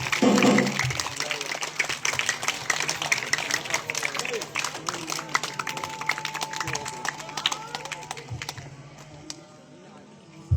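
Audience applause after a stage play, dense clapping from a crowd that starts loud and gradually thins and fades toward the end.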